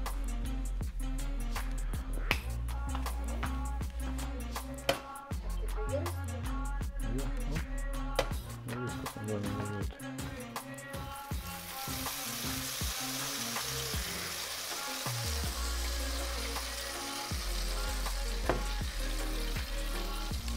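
Protein pancakes made from whey protein mix sizzle steadily in butter in a pan, a loud continuous frying crackle with occasional sharper pops throughout.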